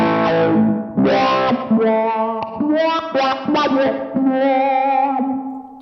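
An electric guitar plays sustained, sweeping notes with a swelling wah tone and a wash of reverb trailing behind each phrase, loud and close.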